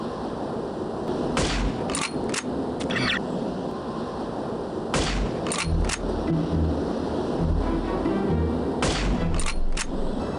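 Gunfire crackles in the shooter game No One Lives Forever: scattered sharp single shots and short clusters ring out over a busy background bed, with no voices.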